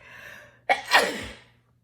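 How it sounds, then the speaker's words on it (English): A single sneeze with a sharp intake and burst, close by, followed by silence. "Oh man, I'm gonna sneeze."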